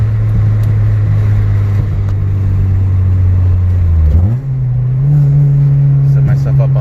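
Tuned Lexus car accelerating in third gear, a loud steady engine drone from inside the cabin that dips briefly at a shift, then climbs to a higher, stronger pitch, with a voice speaking over it.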